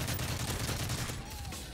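Dense, rapid gunfire rattles without a break in a Call of Duty MW3 team deathmatch, loud and close.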